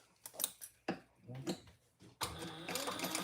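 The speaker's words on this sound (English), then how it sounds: "now we're going to stitch that in 1/8 of an inch." Sewing machine stitching a trifold wallet, several short whirring bursts of stitching that start and stop, followed by a longer steady run of the machine, fairly close.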